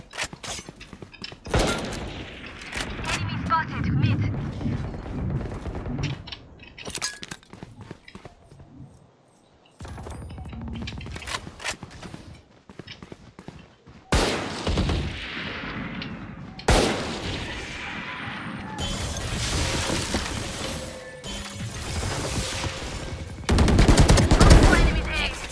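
Repeated gunfire in the tactical shooter Valorant, with bursts of rifle shots and single cracks spread throughout, mixed with footsteps and game effects, and a player talking intermittently.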